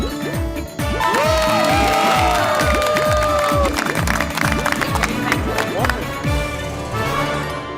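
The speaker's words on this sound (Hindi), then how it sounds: "अरे चाचा जी के लिए जोरदार तालियां।" A crowd in a TV comedy New Year special bursts into loud applause and cheering, with a bouncy musical beat running underneath and excited voices and shouts mixed in.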